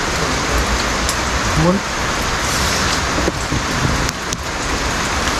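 Steady rain falls at a public cemetery, a constant hiss with drops pattering on surfaces, while people talk briefly over it and faint traffic passes in the distance.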